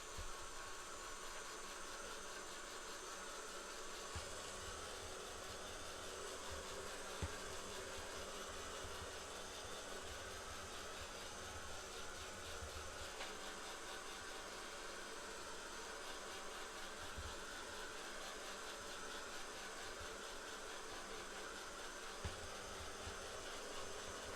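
A hand-held dryer blows over a paper collage, a steady, even whooshing hiss that runs unbroken for the whole stretch at moderate, close level.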